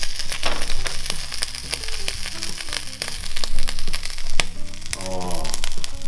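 Garlic bread cheese hot dogs sizzle and crackle in a hot frying pan, a loud, dense crackling with repeated sharp pops and scrapes of turning food close up.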